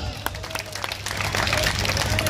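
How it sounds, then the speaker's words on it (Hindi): A crowd at an outdoor political public meeting claps and cheers, dense applause building and growing louder over a low rumble, with some voices mixed in. "सबको एक बार सलाम तालियों के साथ"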